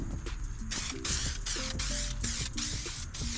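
Repeated spray bursts applying an even coat to a car headlight during restoration, short hissing pulses in a regular rhythm, close and fairly quiet.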